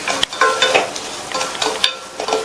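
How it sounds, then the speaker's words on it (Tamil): Semolina roasting in ghee in a pan over low flame, stirred with a spoon: a soft sizzle broken by repeated scraping strokes and light clinks of utensil against metal, close and fairly loud, no talking. "மீதி இருக்கிற நெய்ல 1/4 கப் ரவையை சேர்த்து லோ ஃப்ளேம்லயே வச்சு இந்த ரவையை நல்லா வறுத்துக்கங்க."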